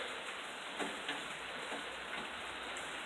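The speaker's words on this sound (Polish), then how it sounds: "pada już u mnie" Steady rain hissing on a surface, with a few heavier drops pattering through the soft, constant wash of sound.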